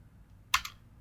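Single quick double-click of a computer keyboard key press, faint and close, while entering a setting in Mitsubishi PLC programming software, otherwise near-silent.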